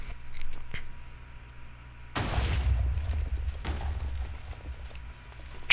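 Minecraft TNT cannon fires two loud booming blasts, each a sharp broadband crack followed by a rumbling low tail, about a second and a half apart, with no talk over them.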